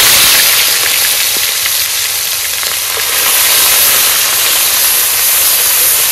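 Onion paste dropped into hot oil with fried prawns, erupting into a loud, dense, hissing sizzle that holds steady and close with only slight swells.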